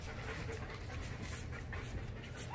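German Shepherd dogs pant quickly and steadily at close range, soft rhythmic breaths running through the whole stretch with faint background room noise and no talking.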